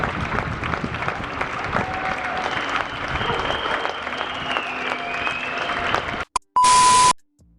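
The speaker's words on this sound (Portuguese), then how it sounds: "Palmas para Jewell." A crowd claps steadily for several seconds over a busy background, then cuts off and a loud electronic beep tone follows near the end.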